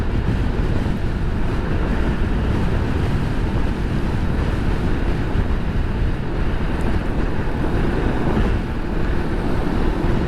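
Strong wind roars and buffets continuously over onion fields in Rizal, Nueva Ecija, a dense unbroken rush with no other sounds standing out.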